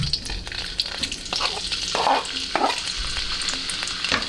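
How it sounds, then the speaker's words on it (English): Continuous crackling sizzle of chicken or beef frying in hot oil for fajitas, close up, with occasional stirring scrapes breaking through the hiss. "you can hear that sizzling"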